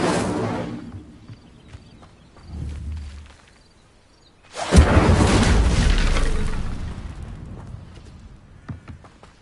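An Incendio fire spell cast in Hogwarts Legacy: a sudden loud whooshing burst of flame that swells and slowly fades, with faint clicks before and after.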